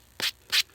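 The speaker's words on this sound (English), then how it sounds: "I'll just take and hold the ring, nice flat edge of the sanding block" A silver coin ring is rubbed against the flat edge of a sanding block, giving two short, sharp hissing strokes separated by a brief pause, close and fairly loud.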